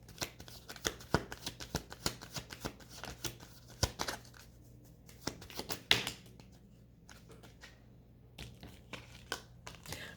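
A deck of tarot-style reading cards being shuffled by hand, crisp riffling and tapping bursts in irregular clusters, close and fairly quiet, with no talking.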